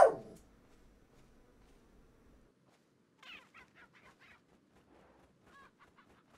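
Chickens cluck in a modded Resident Evil 4. A sharp burst opens, then a quiet stretch, then a run of short, faint, irregular clucks near the end.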